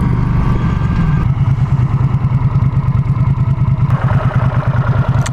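A 1980 Honda CX500 motorcycle engine runs loud and close, a rapid rhythmic lumpy throb with mechanical clatter, alone without talk.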